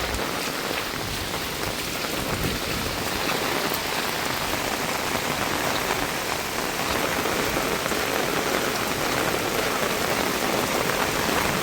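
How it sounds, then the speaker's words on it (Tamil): Heavy rain pours down hard during floods in Sri Lanka, a loud, unbroken hiss of drops drumming on surfaces, steady from start to finish. "இது பாருங்க, மாதுளம் கண்ணு நல்ல கடும் மழை பெய்யுது, அடமழை."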